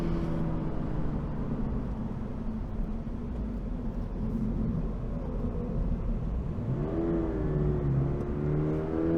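A 2022 Toyota GR86 drives on a road, heard from inside as a constant engine drone over road and wind noise. Near the end the engine note rises and shifts as it revs up.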